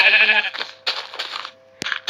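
Sheep bleating in a video game, several short nasal bleats in quick succession with brief gaps and a small click between calls, close and clear, no talking.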